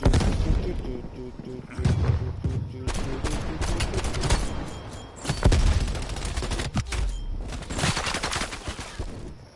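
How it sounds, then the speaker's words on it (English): Artillery fire and gunfire in Call of Duty Cold War, heavy booms and rattling shots rolling on continuously at moderate loudness, with a voice speaking over the battle. "Artillery targeting detected. Net call, incoming artillery."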